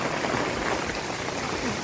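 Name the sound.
heavy rain in the street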